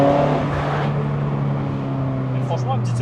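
Peugeot 308 with a 2.0 BlueHDi diesel on a stage 2+ tune, idling steadily close by with a deep exhaust drone, then a faint voice briefly over the engine.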